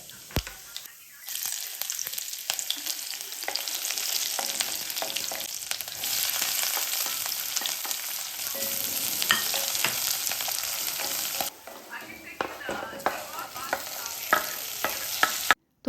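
Onions fry in a pan with a continuous bright sizzle and intermittent stirring scrapes, dropping briefly near the end before resuming.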